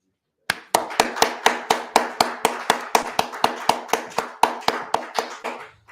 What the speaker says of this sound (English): give a round of applause for our founder